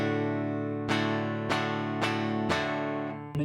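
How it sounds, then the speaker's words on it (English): Clean electric guitar played through a chain of effects pedals, with a sustained chord ringing out and four sharp strums roughly half a second apart, recorded straight off a loop station with no voices. "What you're hearing is just a guitar plugged through some pedals"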